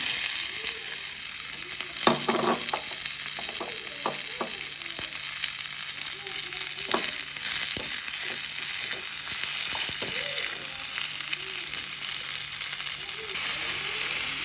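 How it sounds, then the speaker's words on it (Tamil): Fennel seeds and onion sizzle in oil in a pan, a steady frying hiss broken by occasional stirring scrapes and clinks, close and continuous with no talking. "பெருஞ்சீரகம் கொஞ்சம் போட்டுக்கொள்கிறோம் வெங்காயத்தை போட்டுக்கொள்கிறோம்"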